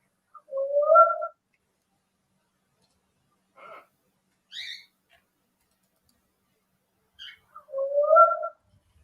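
A purported eastern whoop call: two rising whistled whoops, one at the start and one at the end, with a few faint, brief chirps between them in an otherwise quiet setting.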